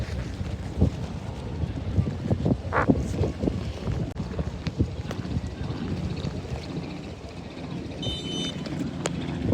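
Wind blowing outdoors on a summer day before rain, heard as steady rumbling buffeting against the microphone with gusty low roar and a few faint scattered knocks, no speech.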